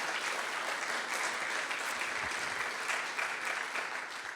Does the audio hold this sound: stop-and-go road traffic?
no